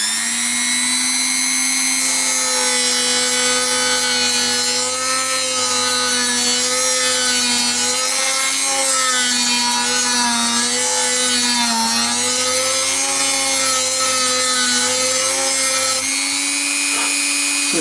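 Steady scraping of a file cutting nut slots on an Epiphone jumbo acoustic guitar, a continuous close, loud rasp with rhythmic back-and-forth strokes and a faint tonal ring, with no talking.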